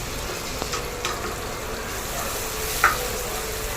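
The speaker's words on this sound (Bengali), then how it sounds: "পেঁয়াজটা নাড়াচাড়া করতে হবে" Onions frying in hot oil in a pan for a mutton lung fry, a constant bright sizzle with a few soft scrapes of stirring and one short clink near the end.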